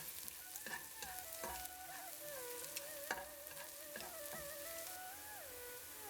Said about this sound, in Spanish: vamos a echar canela en rama y anís. Y lo vamos a mover para que suelte el aroma